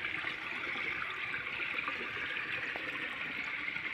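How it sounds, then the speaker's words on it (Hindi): Water steadily flowing out of a swimming pool, a continuous soft rushing and splashing at low volume with no voices. "ये पानी आप देख सकते हैं खारिज हो रहा है"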